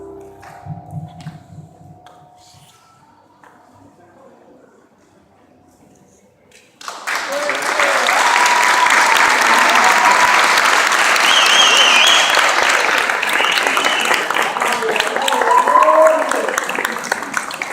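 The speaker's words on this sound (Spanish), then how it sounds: "un fuerte aplauso" Loud, sustained audience applause breaks out after a quiet close to a song at a Gato y Zamba performance, dense clapping that keeps going strongly for about ten seconds with a few cheers mixed in.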